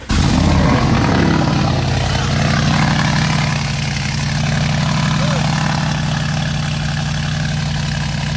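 A Lamborghini Urus with a loud aftermarket exhaust holds a deep, steady rumble throughout, throaty and idling close by with a brief rise in revs at the start.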